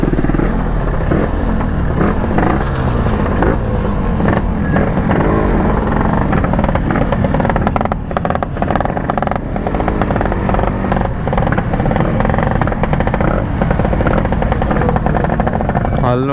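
A Yamaha RX motorcycle engine with an engine problem runs loud and close, a rough, rattling two-stroke idle throbbing continuously with uneven revving and clatter throughout, faint voices underneath.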